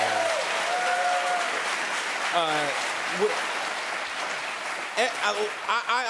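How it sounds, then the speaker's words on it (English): Studio audience applause at a talk show taping, a steady dense wash of clapping throughout with some cheering and voices rising over it near the end. "Give yourselves a round of applause for having a great week."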